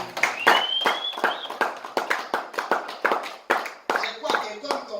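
A church congregation claps irregularly to acclaim the Lord, sharp scattered hand claps close by, with a voice mixed in among them.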